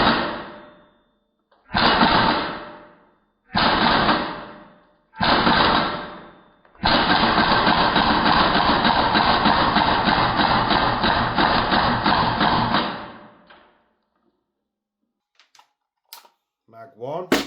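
A VFC AKS74U gas blowback airsoft rifle firing: four short, loud mechanical bursts, then one long sustained full-auto string of rapid clacking, close by and dominant, trailing off into faint handling clicks.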